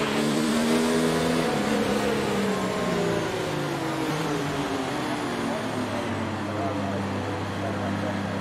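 A Formula 1 race car idles and revs steadily on the starting grid of the French Grand Prix in F1 2019, a continuous loud engine drone with shifting pitch and no breaks.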